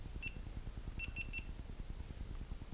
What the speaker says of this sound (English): So you hear the beeping wasn't that loud